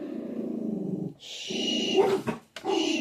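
Dogs whimper and whine close by beneath a person, soft continuous whines with brief pauses, moderately loud.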